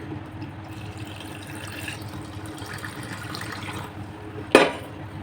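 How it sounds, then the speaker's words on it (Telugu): Water being mixed by hand into a batch with salt and rock sugar until smooth, making a low, steady sloshing that runs throughout, with one brief louder splash near the end. "ఇంకా ఇందులో వాటర్ బాగా కలుపుకుంటానండి"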